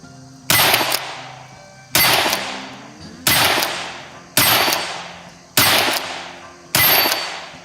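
Six loud, sharp gunshots from a Henry pump-action .22 Magnum rifle fired outdoors, spaced about 1.3 seconds apart, each crack followed by a short decaying echo.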